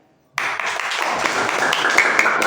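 A classroom audience bursts into clapping for five students, a sudden dense patter of many hands that starts after a brief silence and keeps going steadily to the end.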